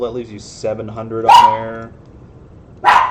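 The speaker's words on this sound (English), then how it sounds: "Sorry about the dogs, guys." Dogs bark in the background, two short loud bursts, while someone commentates on an LPL League of Legends match between VG, EDG, FPX and OMG.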